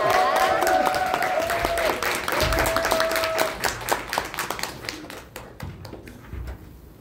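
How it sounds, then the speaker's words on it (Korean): Audience applause welcoming Kim Su-hyeok onto the stage at a seminar in Bundang; a dense burst of clapping that thins into scattered claps toward the end, with a voice talking over the start. "큰 박수로 모십니다."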